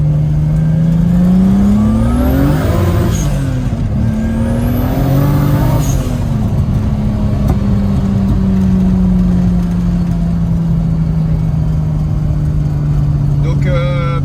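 A car engine with a new Garrett GT3076 turbo revs up twice with a rising compressor whine, then settles into a steady drone as it drives on; loud and close.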